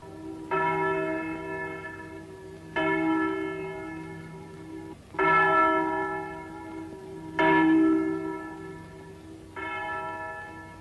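A church bell in the Italian horror film Kill Baby Kill tolls five times at slow, even intervals, each strike ringing out clearly and fading before the next, with no voices.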